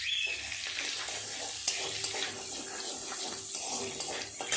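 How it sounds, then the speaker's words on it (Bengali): Black cumin seeds crackle and sizzle in hot oil, tempering for a prawn and taro-leaf dish; a steady, dense hiss with small pops runs throughout, close and fairly loud, with no talking. "চিংড়ি মাছ দিয়ে কচু পাতা রান্নার জন্য কালো জিরে ফোড়ন দেব।"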